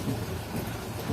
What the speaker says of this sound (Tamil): நான் போகிற நேரம் மழை பிடிச்சிருச்சு.